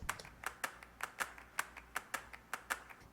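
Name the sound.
clap loop in a music production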